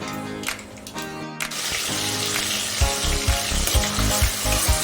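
Chopped onion tipped into hot oil with crackling mustard seeds for a potato bhaji, a loud close sizzle with rhythmic stirring scrapes in the pan, no voices.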